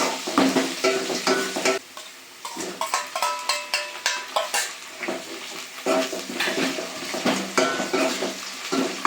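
A spoon stirs frying onions and tomato in a pan, scraping and clattering in quick repeated strokes over a continuous sizzle, close and fairly loud.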